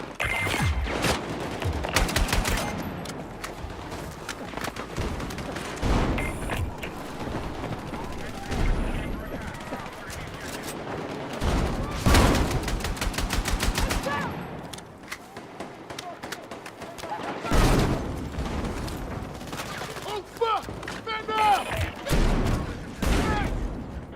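Gunfire in a shooter video game, with loud rifle shots and rapid bursts coming in waves, some near and some distant, and someone talking over parts of it.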